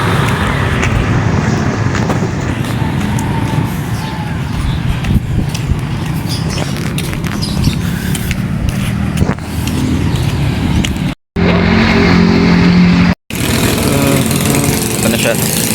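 Motor tricycles and other road traffic rumble along a street in a steady, loud, continuous engine drone, with people talking over the noise throughout.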